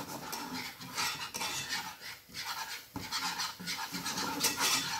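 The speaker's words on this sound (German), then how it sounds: "röste diese mit der Butter oder verröste ich diese mit Butter und mache daraus eine Roux Blanc, eine weiße Einbrenn" Flour roasts in butter in a pot for a roux blanc, with a steady scraping and stirring of a utensil against the pot and soft sizzling, continuous and close, no talk.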